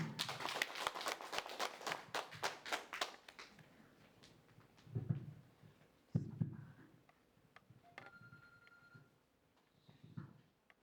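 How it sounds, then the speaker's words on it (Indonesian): An indoor audience at a school event claps for about three seconds, a quick, fairly loud patter. The applause then fades to a quiet room with scattered soft thumps and small movement noises. "Berikan tepuk tangannya"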